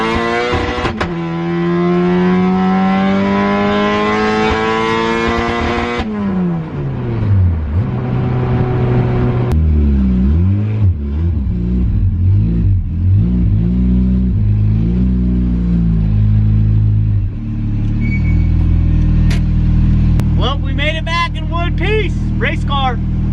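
A Honda Integra race car engine with a spark blowout fault revs and falls repeatedly, pitch sweeping up and down, then settles into a fast, uneven idle with a few sharp blips near the end.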